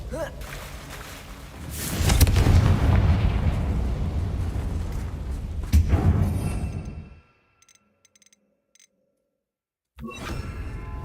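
A fiery Confringo blast spell erupts in Hogwarts Legacy near a damaged bridge, a loud burst with a sustained roaring rumble and a second sharp hit before cutting out, then a brief return of game ambience.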